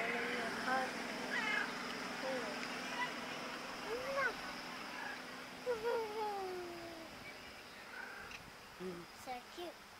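A cat meows several times in short, rising calls, fairly close, with quiet voices and low background noise around it.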